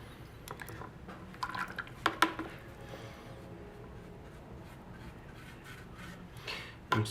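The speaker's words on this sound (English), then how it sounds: "I'm just painting it with hot water, boiling water, which is just wetting it so that the hide glue can get down in there." Boiling water brushed onto a guitar rosette inlay, giving soft wet dabbing and rubbing strokes with a few sharper clicks and taps near the start and end, quiet and close.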